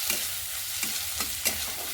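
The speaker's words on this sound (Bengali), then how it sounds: "এর মধ্যে দিয়ে দেবো কুচিয়ে রাখা টমেটো, দিয়ে একটু নেড়ে চেড়ে নেব।" Chopped tomatoes stirred into onion, garlic, green chilli and ginger frying in a pan, giving a steady soft sizzle with a few brief scraping stir strokes, close and moderately quiet.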